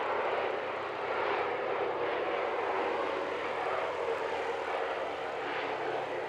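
An airliner passes at Christchurch International Airport, a loud, steady broadband engine roar that holds throughout with no voices.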